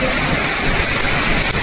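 Heavy rain pours down on a flooded road at night, a dense steady hiss and splatter that stays loud and unbroken throughout, with no voices.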